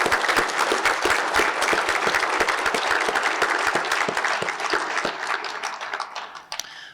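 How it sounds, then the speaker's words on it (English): Applause from the audience at an athletics hall of fame induction ceremony, a dense sustained wash of many hands clapping for about seven seconds, tapering off near the end. "if I could get a round of applause for my wife,"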